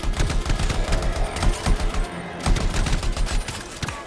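Rapid automatic gunfire in a video game, loud dense bursts of shots rattling almost without pause, with a brief lull in the middle.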